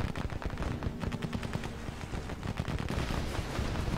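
Rapid, continuous gunfire rattles through a naval airstrike on ships in Battle Fleet 2, a dense burst of machine-gun-like shots that stays steady and moderately loud throughout.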